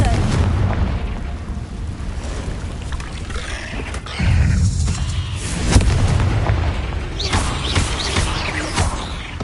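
A Confringo fire spell is cast inside a cave in a wizarding video game. Rushing, crackling blast sounds are followed by a heavier booming burst midway and a sharp impact, with a voice heard amid the noise.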